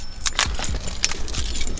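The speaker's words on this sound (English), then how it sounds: "Now let's put the keys on" Keys for a Mustang Coyote jangle close by, a series of bright metallic clinks and rattles in quick irregular bursts with no talking.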